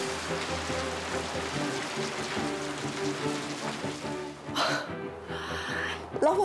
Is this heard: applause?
no